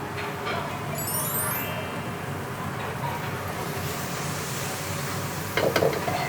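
Tom yum fried rice with leftover sausage and mushroom stir-fries in a pan over lowered heat, giving a steady, close sizzle with continuous stirring and a brief burst of louder spatula scraping near the end.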